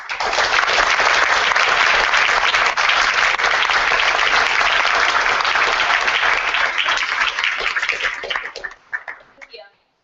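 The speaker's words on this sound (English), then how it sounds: "if you could just join me in giving a round of applause" A loud round of applause from a debate audience, dense and sustained for about eight seconds before thinning into scattered claps and fading out.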